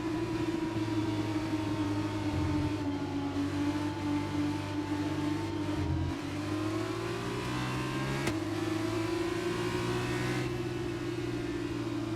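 Formula 2 race cars in the F2 2022 video game sit on the Bahrain grid before a feature race, holding a steady, loud droning engine hum with layered harmonic tones and slight pitch shifts throughout, with no talk.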